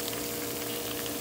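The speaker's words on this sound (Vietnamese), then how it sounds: "Lúc cá đang nóng thì cái sốt hồi nãy làm được bao nhiêu, bây giờ sẽ lấy thìa tưới lên cho nó ngấm" Chili tomato sauce spooned over hot fried fish crackles in a steady, close, dense sizzle with no break.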